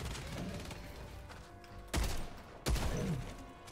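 Two heavy, booming blasts from a shotgun in Helldivers 2, spaced under a second apart over a busy rumbling battle background.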